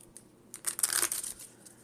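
Pokemon trading card decks being shuffled and cut, a brief burst of papery riffling and flapping that swells and fades, close and soft.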